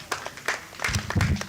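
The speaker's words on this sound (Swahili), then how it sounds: "Makofi kwake." Brief, scattered applause for a child at a Kibera Primary School assembly: a few sharp claps spread over a second and a half, with a voice murmuring underneath.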